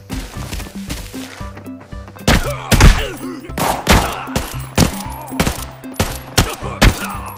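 Pistol gunfire in the video game Arena Breakout: a rapid series of loud, sharp shots, several close together, with thuds and impact clatter between them and no talking.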